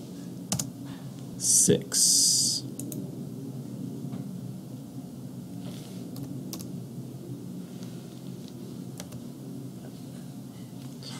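Keystrokes on a computer keyboard while drafting a wrench design in AutoCAD, a light run of close taps and clicks under steady room tone, with someone speaking over parts of it.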